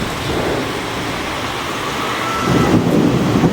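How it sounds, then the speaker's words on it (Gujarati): Heavy rain pours over a village in Asjol, a dense, steady hiss with low rumbling swells like thunder. It grows louder toward the end, with no one speaking. "ખતરનાક વરસાદ પડી રહ્યો છે ભાઈ અમારા ગામ આસજોલમાં."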